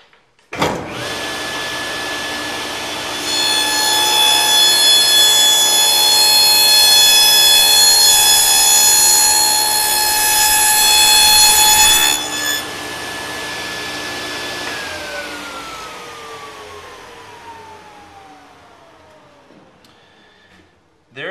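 A table saw runs up and cuts a dado across a workpiece, a loud steady whine with bright tonal harmonics that holds for about nine seconds, then the blade spins down in a falling tone that fades toward the end.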